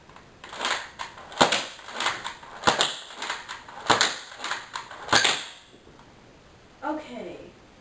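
A Nerf N-Strike Elite Rough Cut 2X4 blaster slam-fires darts in a quick string of about ten sharp, evenly spaced clacks at close range. Then it goes quiet apart from one brief sound near the end.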